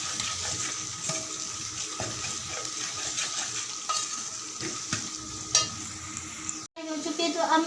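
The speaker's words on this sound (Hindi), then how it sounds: "यहाँ पर प्याज को मैंने फ्राई करना शुरू कर दिया है" Onions frying in a pan give a steady close sizzle with stirring scrapes, followed near the end by a brief break and renewed crackling, with no talk.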